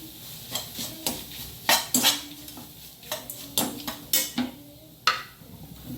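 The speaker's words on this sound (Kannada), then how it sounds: "ಈಗ ಈ ಪೌಡರನ್ನು ಇದಕ್ಕೆ ಹಾಕ್ಕೊಂಡು ಇದು ಎಣ್ಣೆಯಲ್ಲಿ ಡ್ರೈ ಆಗೋ ತನಕ ನಾವು ಇದನ್ನು ಹುರಿದುಕೊಳ್ಬೇಕು" Drumstick-leaf chutney powder roasting in oil in a pan, with rhythmic spoon scrapes and metallic clinks against the pan over a faint sizzle, close and moderately loud.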